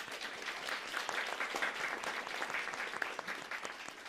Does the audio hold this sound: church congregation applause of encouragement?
yes